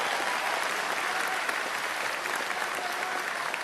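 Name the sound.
audience applause for trades workers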